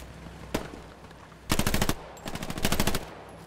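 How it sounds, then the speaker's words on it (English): Close automatic gunfire from a World War II shooter game: a single sharp shot, then two rapid bursts of rifle or machine-gun fire, loud and near, with no talking. "Sound like shots close, but I don't know."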